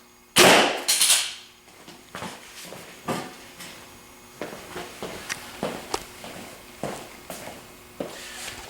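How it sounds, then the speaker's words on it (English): An arrow fitted with a toxic broadhead strikes a piece of ham on an outdoor range with a sharp, loud impact, followed by a string of fainter knocks and thuds. "we will send this arrow into that beautiful piece of ham"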